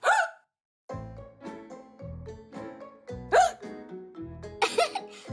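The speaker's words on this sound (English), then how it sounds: "I guess the hiccups are contagious." A cartoon character hiccups in a kids' animated series, with several sharp, squeaky hiccup bursts punctuating bouncy background music, close and loud, the strongest ones toward the middle and end.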